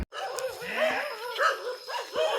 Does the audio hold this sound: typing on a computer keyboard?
no